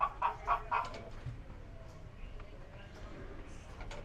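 Animatronic hens in a theme-park blacksmith scene give three quick clucks at the start, followed by faint crowd murmur and background chatter.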